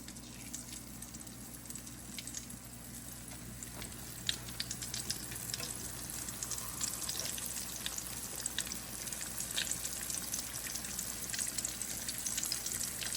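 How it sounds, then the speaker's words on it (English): Steady crackling sizzle of squirrel meat frying in a hot pan, with constant hissing and small pops throughout, no voices. "you hear that sizzle?"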